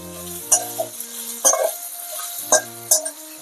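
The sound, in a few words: potatoes frying in hot oil with mustard seeds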